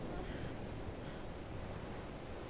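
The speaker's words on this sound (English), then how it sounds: "Here comes the water." Water rushing in from the video game Final Fantasy XVI: a dense, steady roaring wash like heavy surf, loud and unbroken throughout.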